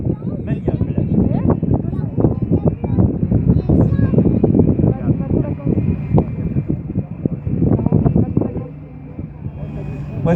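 1988 Peugeot 205 Rallye with a 130 hp engine on a historic hill climb, revving hard with rapid throttle blips and gear changes, loud and close, easing toward a steady idle near the end.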